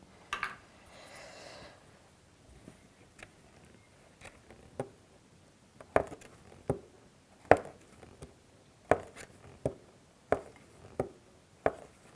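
Embroidery thread is snipped with small scissors during Beauvais-stitch needlework of roses: a series of sharp, quiet clicks repeating at irregular intervals in a very quiet room, preceded by a faint soft rustle.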